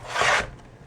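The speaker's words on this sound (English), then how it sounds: "And I ended up with still a lot of sequins left over, as you can see. So I'm just going to dump those off onto my work surface." Leftover craft sequins are poured out onto a work surface, giving a loud, brief scattering rasp of many small pieces that fades quickly to quiet.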